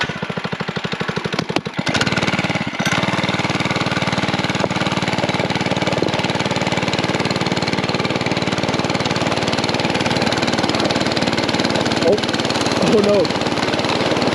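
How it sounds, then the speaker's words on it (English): Mini bike engine running steadily at night while towing a sled, a loud continuous close mechanical drone with an early sputter, a voice briefly speaking over it. "We got the mini bikes here."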